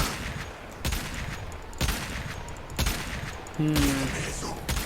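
Deagle-style pistol firing in a video game, four slow, evenly spaced loud shots with a short electronic tone near the end, heard alone with no talk.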